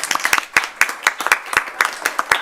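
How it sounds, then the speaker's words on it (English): A small crowd at a school board meeting claps steadily, the applause close and lively, with no talking over it. "So let's give him a round of applause."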